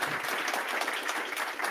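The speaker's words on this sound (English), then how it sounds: "Big round of applause." Audience applause closing a panel discussion at a conference on trading interoperability, a dense steady wash of many hands clapping at once, sustained and fairly loud with no voices.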